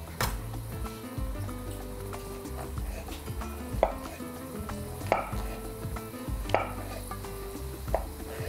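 A knife finely chops agaricus mushrooms on a board, sparse crisp cuts landing every second or so over a quiet background hum and a faint pan sizzle.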